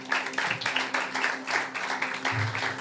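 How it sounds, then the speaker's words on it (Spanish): A church congregation claps during a Spanish-language sermon, steady rhythmic applause with a murmur of voices underneath and a low hum in the room. "Denle un aplauso a Dios."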